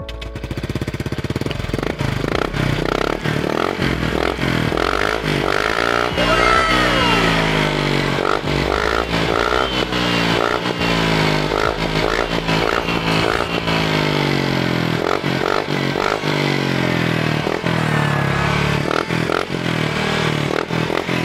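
A motorcycle fitted with a Zeno power pipe exhaust runs loud and close, its rough, rattling note rising and falling through repeated throttle revs for the whole stretch.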